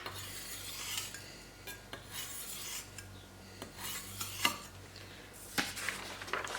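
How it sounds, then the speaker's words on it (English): A steel knife edge scraped repeatedly along a wooden knife block, giving faint, rasping strokes with a few sharper scrapes and knocks as the blade is deliberately blunted. "against the knife block to make this knife very, very blunt"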